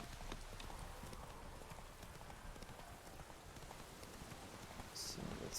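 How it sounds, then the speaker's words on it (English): Horse hooves clip-clopping steadily along a path in the game The Witcher 3: Wild Hunt, a continuous rhythmic trot at moderate level with faint rain-like background noise and a brief high chirp near the end. "Oh, there's my horse."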